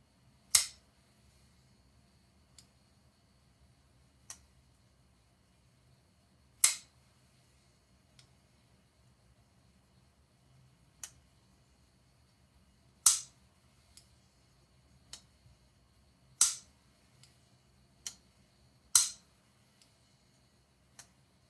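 Sharp metallic clicks of a Ferra Monster Urban Grip folding knife flicking open, about a dozen spaced irregularly over quiet near-silence, crisp and close.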